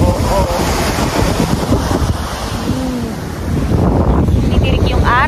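Strong wind buffets the microphone on an open, empty beach at Ilocos with surf rolling in, a steady loud roar throughout with no voices.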